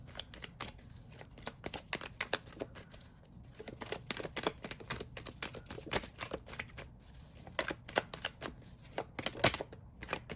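A deck of tarot cards being shuffled by hand in a quiet room, a rapid run of crisp riffling flutters and slaps in uneven bursts, fairly close and soft.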